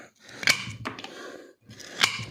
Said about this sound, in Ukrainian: Ну, він сильно клацає, і коли тверда деревина, акацун ріже її гірше